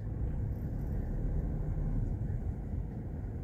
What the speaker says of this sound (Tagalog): Sobrang traffic ngayon dito sa na-IAX.